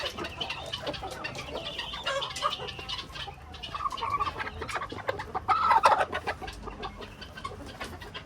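Hens on a poultry farm cluck steadily, several birds overlapping in a busy, close chorus of short clucks and squawks, with no voices in the clip.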